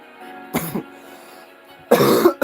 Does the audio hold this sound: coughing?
yes